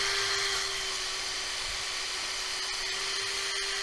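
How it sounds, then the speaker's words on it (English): A power drill fitted with a small countersink bit runs at steady high speed while boring holes for a wooden garden trellis, a loud continuous whine close by with no talk. "We have a little countersink bit in there."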